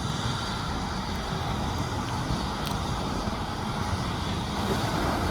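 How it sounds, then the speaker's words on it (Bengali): A Fly Dubai airliner taxis toward the runway for takeoff on its Dhaka to Dubai route, its engines a steady, loud, unbroken roar throughout. "এই বিমানটি এখন টেক অফ করার উদ্দেশ্যে ট্যাক্সি ওয়ে হয়ে রানওয়ের দিকে যাচ্ছে"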